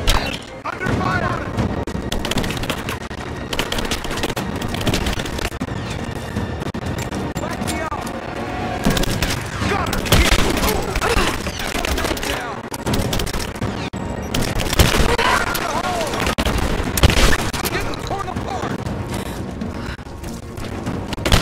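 Heavy gunfire from a firefight in Rise of the Tomb Raider, with dense, sustained bursts and rattling automatic shots mixed with thuds and crashes throughout, while voices call out over the fighting.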